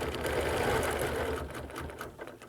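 A sewing machine runs steadily, stitching a quilt guided along a quilting ruler for chain quilting, with a continuous close mechanical whir that eases slightly toward the end.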